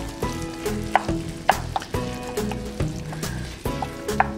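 Chilean beef empanadas (turnovers) frying in hot oil, with a steady close sizzle and a few sharp pops over tonal background music.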